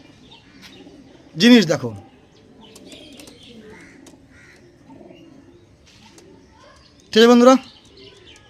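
Andhra Kalshira Punjabi pigeons give soft, low coos in the background while someone talks, broken by two brief, loud harmonic calls close by.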